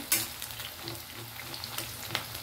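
Fish frying in a pan gives a brief close sizzle with light crackling and a soft stir or two, no voices.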